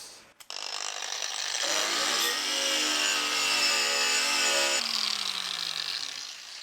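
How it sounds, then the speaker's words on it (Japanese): A power tool grinds surface rust off the frame of a Caterham Super Seven during restoration, a loud steady whine that spins up, holds for about three seconds, then winds down with no talk. "それじゃあフレームの錆落としやっていきます。"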